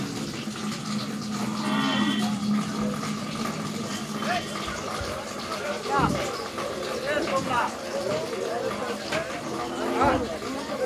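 At a busy Suryapet cattle market trading cows and buffalo, a cow lets out a mooing call early on, heard amid constant crowd noise, scattered knocks and people talking throughout.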